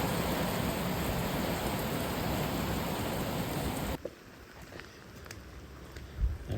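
Steady broadband hiss of rain falling, loud and continuous, then abruptly quieter with sparse drips and patters.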